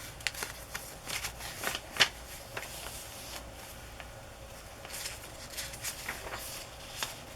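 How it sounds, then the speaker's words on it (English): Wrapping paper is handled and rustled in soft, intermittent crinkles and crackles, faint and close, with quiet gaps between the bursts. "This is wrapping paper."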